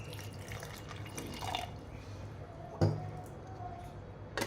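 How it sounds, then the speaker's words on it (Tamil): Water is poured into a blender jar holding aloe vera, heard as a soft trickle with a few drips and a sharper splash near the end, over a faint low background hum. "தேவையான அளவு தண்ணி ஊற்றிக்கலாம்"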